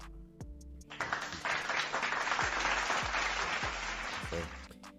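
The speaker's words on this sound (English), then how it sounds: "give yourself a little round of applause right there" A round of applause rises after a brief pause, with many hands clapping together in a dense, sustained wash that holds for about four seconds, while low music or tones sound beneath.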